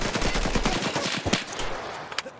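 Rapid bursts of automatic gunfire from Escape From Tarkov, a dense volley of close, sharp shots in quick succession that thins out toward the end.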